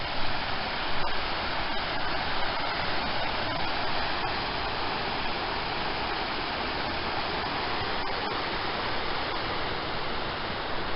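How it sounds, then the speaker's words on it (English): River rapids flowing beside a campsite, a constant, even rush of churning water filling the air for the whole stretch with no talking. "by the water, the river rapids"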